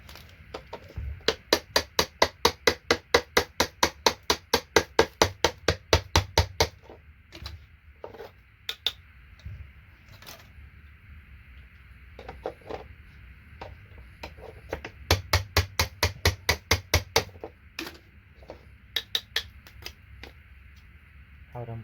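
Hammer blows on a chisel knock SMD resistors off scrap e-waste circuit boards, sounding as two long bursts of rapid, evenly spaced sharp taps with scattered single knocks between them, close and clear with no talk.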